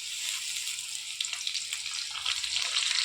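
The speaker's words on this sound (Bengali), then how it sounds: "এখন লাল করে ভেজে নেব।" Spice paste with turmeric fries in hot oil for a fish-head muri ghonto, giving a steady close hiss and sizzle with small crackling pops and no speech.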